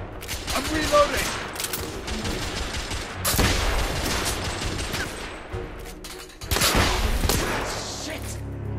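Enemy gunfire in The Order: 1886 crackles in dense, loud volleys with heavy thumping impacts, in two main bursts with a brief lull between them.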